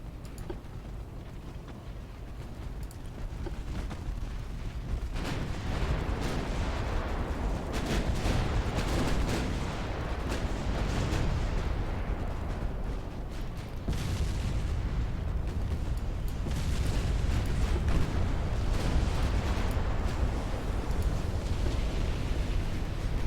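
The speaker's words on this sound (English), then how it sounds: "Lots of ships exploding and sinking" Naval battle in Ultimate Admiral Dreadnoughts with British ships exploding and sinking: a dense, continuous roar of heavy gunfire and deep explosions, rumbling booms rising in waves over about twenty seconds without speech.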